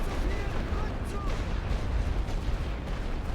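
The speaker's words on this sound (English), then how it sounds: "their artillery is not going to stop, neither are their machine guns" Artillery and machine gun fire in The Great War: Western Front, a dense rumbling barrage of distant booms with crackling shots throughout, heavy in the low end and steady in level.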